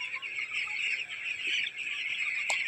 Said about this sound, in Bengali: মুরগিগুলো তেড়ে তেড়ে খাওয়াতে হচ্ছে।